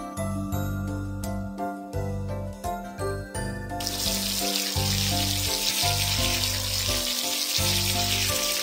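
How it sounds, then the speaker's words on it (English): Running water in a cartoon makeup salon game rinses soap from a princess's face, a steady bright splashing stream that begins midway, following a tinkling jingle of game music. "Rinse the soap."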